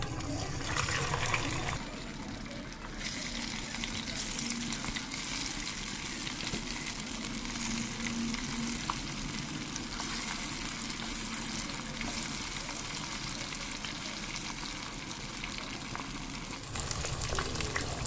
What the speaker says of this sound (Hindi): यही चिकन को अभी हमें इस ऑयल में फ्राई करना है।